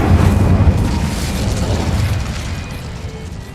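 A fire spell is cast in the Hogwarts Legacy video game, a loud burst of flame that opens with a heavy boom, then a roaring, crackling rush that slowly fades.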